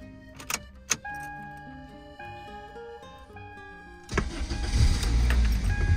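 A 1999 Toyota Corolla is switched on: a few sharp clicks and a run of steady electronic dashboard tones, then the engine cranks and catches about two-thirds of the way in, settling into a loud, close running rumble.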